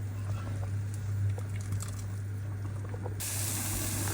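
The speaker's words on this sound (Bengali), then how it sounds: "সবজিগুলো একটু তেলের মধ্যে ভেজে নিলাম হালকা" Vegetables with broad beans, small potatoes and dried fish frying lightly in oil, giving a steady soft hiss and spray that holds evenly throughout and brightens near the end.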